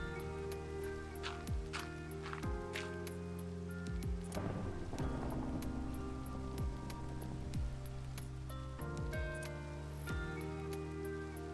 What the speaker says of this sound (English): That was lightning.